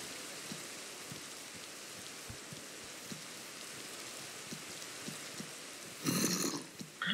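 Soft rain falls in the Minecraft video game as a quiet, steady patter dotted with distinct drip ticks, ending in a brief louder rush; no one speaks.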